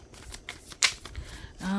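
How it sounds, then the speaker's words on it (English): Tarot cards are shuffled by hand, a short soft riffle and rustle of cards ending in a quick fluttering burst, close and quiet. "Let me shuffle again."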